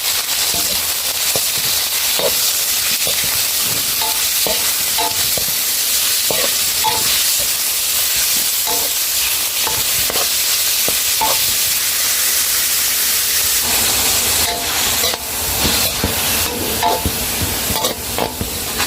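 Beef pieces for Thai pad krapow hit a hot pan with a loud, continuous sizzle, punctuated by repeated sharp scrapes and clacks of stirring that intensify toward the end, with no one speaking.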